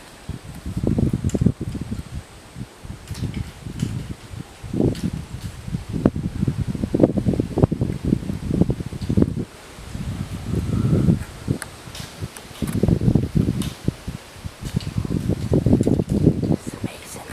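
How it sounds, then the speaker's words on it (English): Gusty wind sweeps in ahead of a thunderstorm with a wall cloud, rushing and buffeting the microphone in uneven surges throughout, with a person talking over it. "You can hear the wind in the distance."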